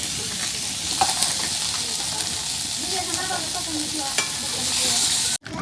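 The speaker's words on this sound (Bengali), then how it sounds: "মাছ ভাজা হয়েছে" Fish sizzling steadily as it fries in oil in a hot pan, a dense continuous crackle with occasional soft stirring clicks, close and fairly loud with no talk over it.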